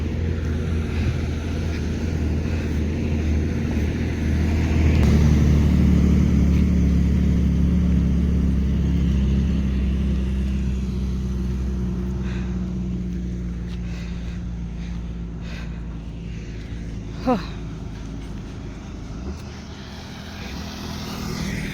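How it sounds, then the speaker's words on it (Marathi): A vehicle comes along a forest road through hilly country, a broad low engine rumble that swells toward the front and then holds steady as it nears, with no talk over it. "गाडी येते"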